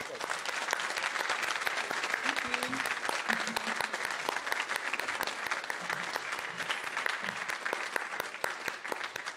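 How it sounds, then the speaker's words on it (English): Steady, dense applause fills a lecture hall after an architecture memorial lecture, sustained and even throughout with a few low voices murmuring underneath. "we can applaud and wave to Doreen and thank her for coming"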